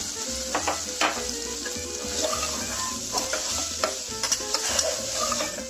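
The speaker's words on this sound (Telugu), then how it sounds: "ఇది కొంచెం కలర్ వచ్చేదాకా మెల్లిగా స్లోగా ఫ్రై చేసుకుందాం" Something frying slowly in a pan at the start of a gongura dal, giving a steady close sizzle broken by repeated scraping and stirring strokes of a spatula, with no talking.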